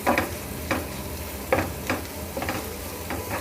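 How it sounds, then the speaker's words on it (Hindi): Spices are roasted in a pan over a very low gas flame, with soft sizzling under repeated short scraping strokes of a spoon stirring at an uneven rhythm, close by and without any voices. "इस मसालों को अच्छे से भूनेंगे हम"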